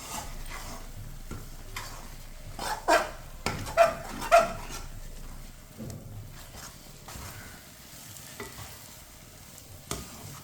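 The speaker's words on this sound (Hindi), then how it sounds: "इसी तरह मिक्स करके इसे 2-3 मिनट के लिए पका लेंगे।" Grated carrot halwa stirred and cooked in a pan, with steady scraping and mixing strokes over a low sizzle, a few louder clanks of the spoon near the middle, close and moderate in level.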